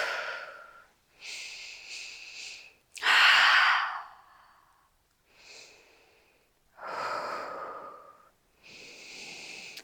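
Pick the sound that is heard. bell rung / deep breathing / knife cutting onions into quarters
deep breathing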